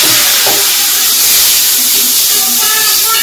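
Onions fry in a pan with ground cumin and turmeric, making a loud, steady, close sizzling hiss that carries on without a break.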